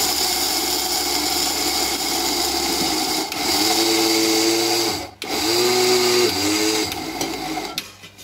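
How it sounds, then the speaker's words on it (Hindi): A mixer grinder blends peanuts and cashews into a paste for peanut katli. Its loud, steady motor whine drops briefly near the three-second mark and cuts out sharply around five seconds, then restarts and winds down near the end. "अब हम ग्राइंडर में इसको पीस लेंगे अच्छी तरीके से, जिसमें हम काजू भी साथ में ऐड कर देंगे।"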